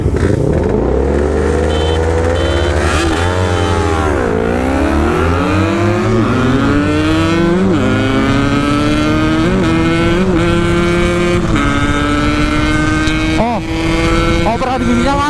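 A Yamaha RX King two-stroke motorcycle with a ported OS 150 block screams near its top speed, its loud engine whine climbing and dropping through gear changes and holding high revs throughout.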